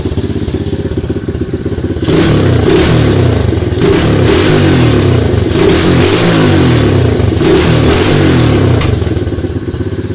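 An SSR 110cc pit bike engine with a new head and a slight exhaust leak, still a little cold, idles close by and then revs up in several loud repeated bursts with clattery mechanical noise, no talk.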